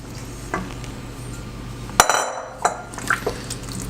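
Yukon Gold potato chunks going into a beef stew pot, heard as a sharp clatter of pieces and utensil against the pot followed by a few lighter knocks and clinks, close and loud against a low kitchen background.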